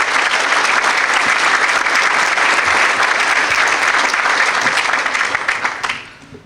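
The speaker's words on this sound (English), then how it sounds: "Let's give our public servants a round of applause" Loud, sustained applause from an audience at the St. Paul Police Officer of the Year event, honoring public servants, dense and steady before fading out at the end.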